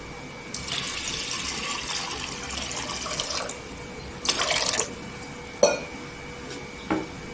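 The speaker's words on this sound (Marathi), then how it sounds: "एक वाटी मुगाची डाळ आहे तर त्याच्यात चार वाटी पाणी टाकायचं" Water streams steadily into a container of moong dal for a few seconds, followed by a burst of louder splashing and a couple of brief clinks.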